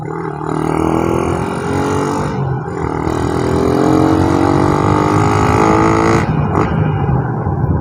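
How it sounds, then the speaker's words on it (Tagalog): A carbureted Suzuki Raider 150 motorcycle engine revs hard and close, rising in pitch through repeated throttle pulls with brief drops between bursts. "maririnig mo talaga kapag bumibirit ang isang Raider 150"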